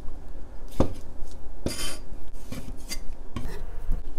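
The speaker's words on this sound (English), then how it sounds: "I'm just gonna give it a chop to each one in the center" Knife chopping a tomato through the center on a cutting board, a few separate close clacks of the blade hitting the board with quiet scraping and handling sounds between them, no talking.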